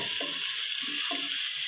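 Sliced onion goes into hot oil with browned garlic, giving a steady close hiss with soft crackling bursts, while Bengali home cooking of a fish, potato and meat meal proceeds.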